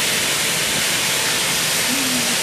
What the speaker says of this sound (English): could you turn the steam on for me, please?